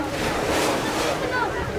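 A boat motor drones on a Venice canal, a loud, steady churning roar mixed with splashing water and wind buffeting the microphone, close and constant throughout.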